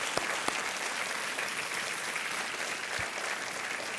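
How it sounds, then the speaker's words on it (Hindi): A studio audience at a televised quiz show applauds, producing a continuous, dense wash of clapping with a few sharper claps standing out, steady and moderately loud. "तालियों के साथ उनका भी स्वागत किया जाए।"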